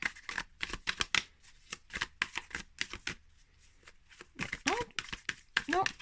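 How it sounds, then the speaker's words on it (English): Stiff tarot cards from the Fortuna Tarot deck are riffle shuffled on the long side, making repeated quick fluttering riffles in bursts with short pauses, close and crisp, while a voice talks between them. "do the riffle shuffle better on the long side than the wide side"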